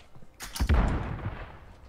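Gunfire in a video game, one sharp booming report with a couple of quick cracks around it, close and loud, then a rumbling tail that fades out.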